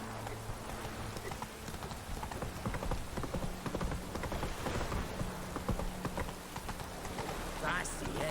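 The horse Roach gallops in The Witcher 3, its hooves beating out a steady, rapid clip-clop on the ground in the near foreground, with voices talking over the hoofbeats.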